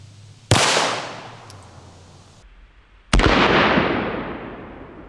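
.22 long rifle gunshots fired at a human shield target, two sharp loud cracks about two and a half seconds apart, each followed by a long ringing decay outdoors.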